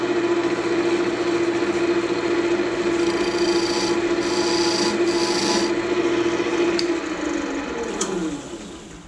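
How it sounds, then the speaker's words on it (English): Steady rasping rub of a tool against fatwood as a skinny candlestick holder spins on the lathe, with a constant motor hum underneath; the scraping continues for most of the stretch and then eases off near the end. "I smoothed that out, and I still got to smooth this out over here."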